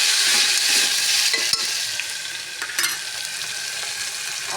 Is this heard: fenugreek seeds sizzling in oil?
yes